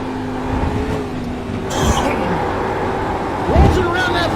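A race car in a sim racing series at Daytona Road Course brakes hard into the bus stop chicane, engine drone dropping through quick downshifts with sharp revving blips near the end, loud and close.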